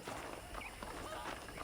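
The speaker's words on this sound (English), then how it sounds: "let's see if you can still ride a horse" Horse hooves in the Red Dead Redemption video game, a quick irregular clip-clop of a ridden horse at a ranch, fairly faint and mixed with background sounds and some talking.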